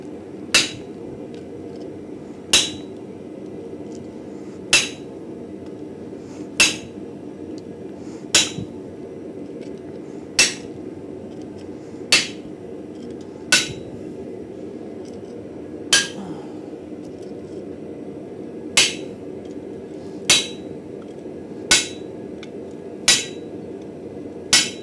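A hammer strikes a weld while a Finnish-style axe is being forged, sharp metallic blows landing one at a time about every one to two seconds at a steady pace, close and alone over a low background hum.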